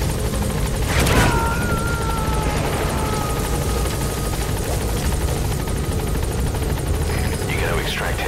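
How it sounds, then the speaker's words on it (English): Support helicopter arriving in Metal Gear Solid V, a steady broadband rotor roar that fills the whole clip at constant loudness, with a brief louder burst early on and a voice speaking over it. "Support helicopter has arrived."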